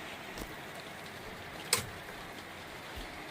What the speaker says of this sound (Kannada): ನೋಡಿ ಎಷ್ಟು ಜೋರು ಹೊಡಿತೈತೆ ಮಳೆ